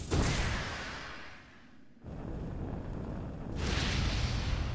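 Sparkly fire starting in Hollow Knight, heard as a loud, broad whooshing roar that dips and then swells back up, crackling and sustained, with no one talking.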